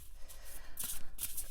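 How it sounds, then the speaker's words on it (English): Oracle cards being shuffled by hand nearby, quick papery riffles and flicks in short bursts, with no talk over them. "We're just going to shuffle"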